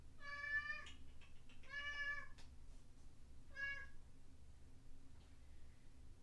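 A cat meows three times, clear and fairly close, each cry drawn out and a second or so apart, over a low steady background hum, with no talking.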